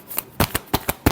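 Tarot cards being shuffled in a handful of quick riffling bursts, close and crisp, with short pauses between each flutter and no talking.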